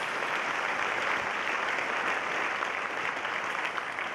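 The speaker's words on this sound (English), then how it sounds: "So let's give them a round of applause for teaching me something." An audience at a high school winter concert gives sustained applause, a steady, even clatter of many hands clapping from start to finish.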